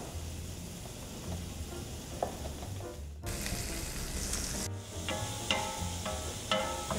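Sliced garlic goes into pancetta frying in olive oil for a porketta roast, a close, steady sizzle that surges louder midway, with stirring clinks and scrapes of the pan.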